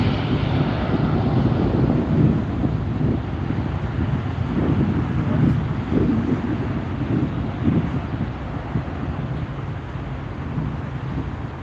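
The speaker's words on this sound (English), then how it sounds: "Now here's the E-175." An Embraer E-175 jet airliner at night at SNA airport, heard as a steady broadband engine roar and rush with wind noise, fairly distant and continuous, no talking.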